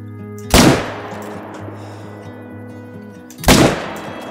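Two loud, sharp rifle shots from the Argus in a savannah hunting game, fired about three seconds apart, each followed by a fading, echoing tail over a quiet ambient hum.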